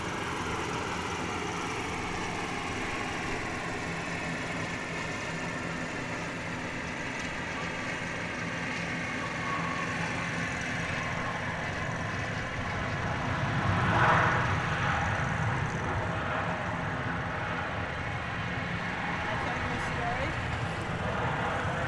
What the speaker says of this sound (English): It's American Flight 883 coming in from Querétaro in Mexico. It's a 737-800